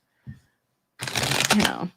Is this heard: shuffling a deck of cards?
yes